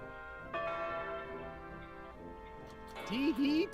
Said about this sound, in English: Tea time bell.